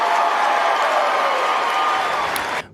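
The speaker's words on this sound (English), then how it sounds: "Give him a round of applause." At a tribute gathering for Charlie Kirk, a crowd delivers a sustained round of applause with some cheering, loud and steady before cutting off abruptly near the end.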